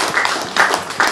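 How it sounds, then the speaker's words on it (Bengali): An audience claps at a news event, a short burst of loud, dense hand clapping with a few stronger surges over under two seconds. "আমরা জোরে একটা হাত তালি দিই।"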